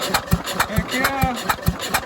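A Jacobsen Chief 800 garden tractor engine, back in repair after years sitting outside, runs with a loud, close, lumpy rhythmic chugging of evenly spaced firing thumps and a brief whine in the middle.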